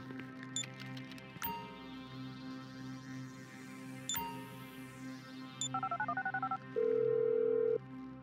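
A phone is dialed in a video game with a string of quick electronic button tones followed by a steady held ring tone, set among clicks and soft background game sounds.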